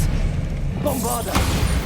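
A Bombarda blast spell explodes in the Hogwarts Legacy video game, a sudden booming burst about halfway through over a low rumbling game backdrop, with a voice briefly audible around it.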